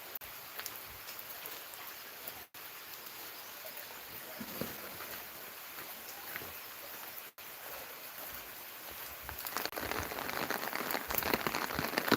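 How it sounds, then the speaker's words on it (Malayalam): Steady rain patters on surfaces at Hill View Park, Cheruthoni, Idukki, in a continuous hiss, growing a little louder and denser toward the end, with two brief dropouts. "മഴ വന്നപ്പോൾ സന്ദർശകരെല്ലാം പോയി"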